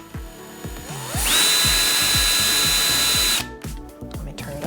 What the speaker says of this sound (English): It's called a hole saw, and it drills a hole.